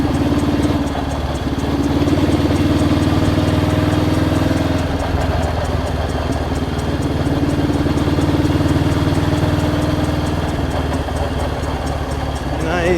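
A restored blue Honda CL77 Scrambler motorcycle idles steadily up close, a continuous mid-pitched engine throb that stays loud and even throughout.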